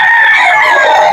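Kanawayon chickens crow and cluck loudly and up close, one continuous burst of rooster calling filling the moment without any voices.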